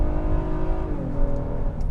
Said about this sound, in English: But this engine, let's start with that, okay? First off, it sounds great.